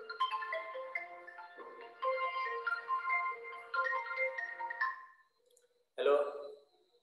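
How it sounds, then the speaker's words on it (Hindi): A mobile phone ringtone for an incoming call plays as a clear melodic tune in several repeating phrases, pausing briefly before a final burst, heard close and alone during a physics lesson. "आस्था शरद निकम क्यों फोन कर रही है अभी"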